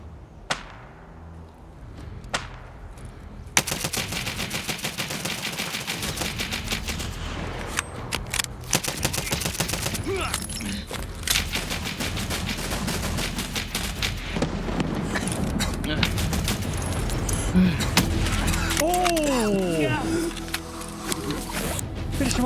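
Gunfire in the video game Escape from Tarkov. It starts with a few isolated shots over a quiet backdrop, then breaks into loud rapid-fire bursts and single cracks mixed with in-game effects for the rest of the stretch.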